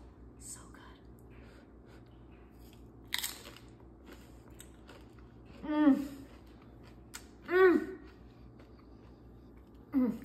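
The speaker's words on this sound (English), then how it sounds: "Got my tortilla chips, and we're gonna dig right in." Tortilla chips are bitten and chewed close to the microphone, giving a few sharp crunches spread out over the moment against a quiet background, with faint whispery breaths between.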